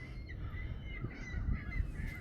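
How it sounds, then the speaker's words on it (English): Flock of seagulls over a lake where birds are feeding on floating fish, a wash of overlapping honking and squawking calls, moderately distant and continuous over low wind-like rumble, no speech. "We usually get a few seagulls on the lake, but I've never seen this many at one time."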